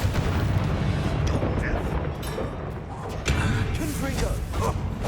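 A Bombarda spell explosion in the Hogwarts Legacy video game: a loud, continuous booming rumble with heavy low-end blasts layered under battle noise, a second surge about three seconds in.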